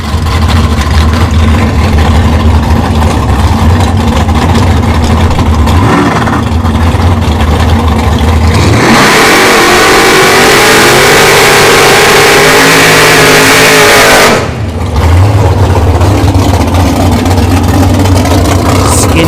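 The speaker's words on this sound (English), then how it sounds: "We've got Skinny Kenny in the left lane here in the 2nd gen Camaro." At an NHRA bracket series drag race at Bradenton Motorsports Park, loud engines including a 2nd gen Camaro idle and rumble, then roar hard as the cars launch and race away, fading back to engine noise.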